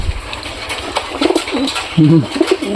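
Pigeons cooing nearby, a few soft throaty coos arriving in short bursts over a busy outdoor background.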